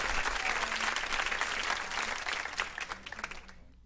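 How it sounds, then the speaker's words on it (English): A small group claps during a radio show recording, brief and fairly close, with light chatter under it as the clapping thins out toward the end. "I guess I'll give myself an applause."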